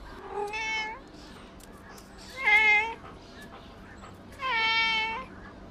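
A stray cat called Orange, found wandering in the street, meows three times in clear, drawn-out cries spaced a couple of seconds apart, fairly close, against a quiet room background in a Korean drama scene.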